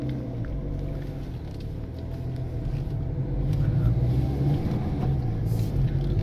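A Ford C-Max 1.6 TDCi Trend rolls along at a gentle pace, a steady low engine and road rumble heard from inside the cabin, swelling slightly toward the end with a faint clunk near the close.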